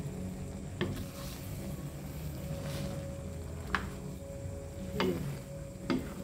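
A QuickMelt cheese mixture being stirred and folded, with a few soft scraping strokes spaced a second or two apart over a steady low background hiss, close and quiet.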